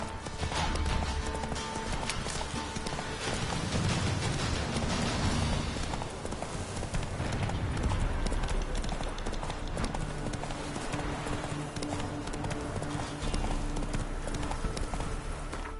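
A horse gallops in The Witcher 3, its hooves keeping a fast, continuous clip-clop rhythm over steady game ambience.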